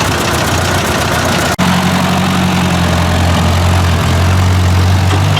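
Ford 800 tractor engine runs in spurts, a steady loud mid-low drone with a brief dropout near the start before the rumble picks up again and holds, close by.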